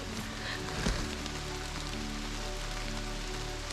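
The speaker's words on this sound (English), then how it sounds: "The rain is sort of refreshing right now." Steady rain falling during a wet backwoods camping trip in Frontenac Provincial Park, a constant close hiss of drops pattering on surfaces, with a brief thump near the start.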